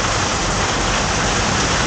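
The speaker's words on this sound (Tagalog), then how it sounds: "malakas ang ulan" Heavy rain pours down in a steady, loud, dense hiss that fills the whole moment without a break, close and unvarying.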